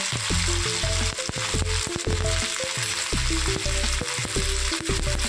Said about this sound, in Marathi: भेंडी चांगल्या प्रकारे फ्राय करून घ्यायची आपल्याला तेलामध्ये।